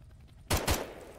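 A gun firing in a Roblox game: two sharp, loud shots in quick succession, each bursting out of a quiet background and leaving a short fading tail.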